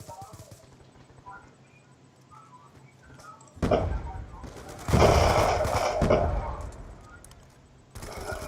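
Gunfire in the Black Ops 2 Zombies video game, with rapid loud bursts of shots after a quieter stretch of game sounds, ending with another burst.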